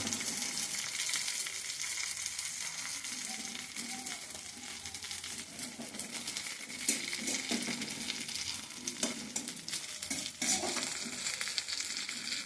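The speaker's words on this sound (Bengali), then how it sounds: "একটু লাল হলে সেরকম করে ভাজছি, একটু লাল মতো।" Onions frying in a pan until they turn reddish, a steady close sizzle with intermittent stirring scrapes throughout, no voices.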